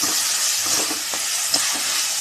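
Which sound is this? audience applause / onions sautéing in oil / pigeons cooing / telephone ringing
onions sautéing in oil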